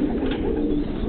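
Red-laced bald head roller pigeons coo softly and continuously close by, a low rolling murmur filling the whole short moment.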